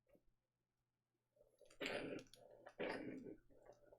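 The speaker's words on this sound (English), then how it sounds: "that's furballing and coughing at the same time" A pet cat coughs up a furball, making two harsh retching, hacking bursts close by after a quiet moment, with softer gagging sounds trailing off.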